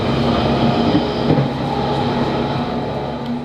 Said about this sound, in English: I'm on a Central Line train heading north to the end of the Central Line to Epping